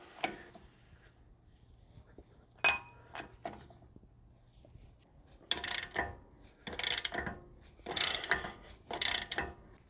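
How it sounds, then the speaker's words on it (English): 54mm hub nut socket loosening a hub lock nut on a Toyota Landcruiser swivel hub, with sparse metallic clicks early on, then repeated loud bursts of ratcheting clatter close by. "we're ready to fit our 54mm hub nut socket over that lock nut, and we're just going to loosen that and remove it"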